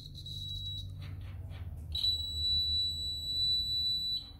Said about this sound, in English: if we put batteries in here, our buzzer would go off, and we can test that